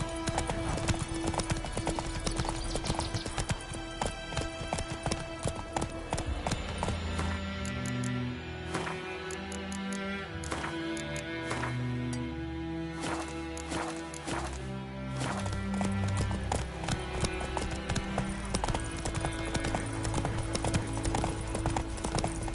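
Roach, a horse in The Witcher 3, gallops with rapid, rhythmic hoof clip-clop throughout, loud and continuous over a layered game soundtrack.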